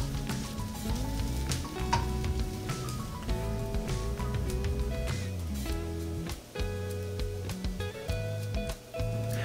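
Dried dulong fish frying in a pan while a young jackfruit stew is being cooked, with a soft, steady sizzle throughout, heard under background music.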